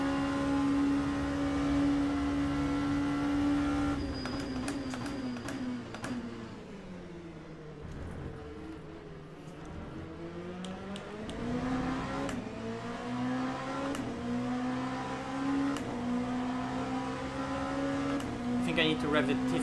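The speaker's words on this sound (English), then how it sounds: "I need to rev the tits out of the first gear, otherwise the second one bogs" Race car engine in the Le Mans Ultimate sim, revved hard in first gear with a rising, falling whine that sweeps through the revs and climbs again, while someone talks over it.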